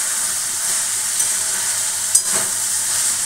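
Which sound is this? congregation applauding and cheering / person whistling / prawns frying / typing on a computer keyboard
prawns frying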